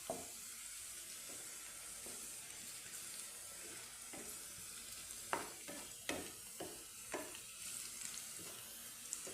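Onions, garlic and chili frying together in a pan for eggplant adobo give a faint, steady sizzle, joined midway by a run of close spatula scrapes and taps, with no voices.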